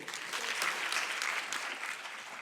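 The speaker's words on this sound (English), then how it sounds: "A very big round of applause for inspiring us all" An audience at an International Women's event gives a round of applause, a dense, steady clapping from many hands heard from a moderate distance.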